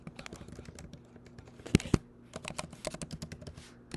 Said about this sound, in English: then we're going to type in our password